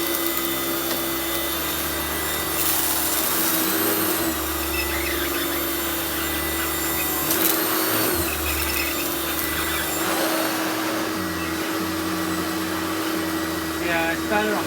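A vacuum cleaner runs steadily on a rubber-backed mat, giving a loud, continuous motor whine and airflow roar with slight surges as the head is pushed back and forth, near and unbroken throughout.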